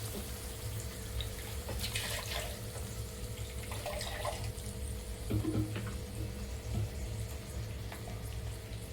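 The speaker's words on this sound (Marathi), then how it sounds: "छान मिक्सरचं वांग घेऊन त्यामध्ये मी पाणी सोडून घेतले आहे." Water poured from a mixer jar into a simmering prawn curry, a steady close trickle and splash over a low background hum, with no talking.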